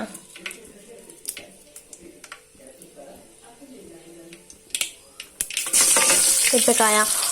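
Cumin, mustard seeds and chillies go into hot oil in a pan: scattered ticks and clinks with some talk give way to a sudden loud, steady sizzle at the end.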